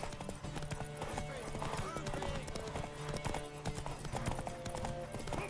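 Rhythmic hoofbeats of a galloping horse in The Witcher 3, steady and close, layered with game music and effects.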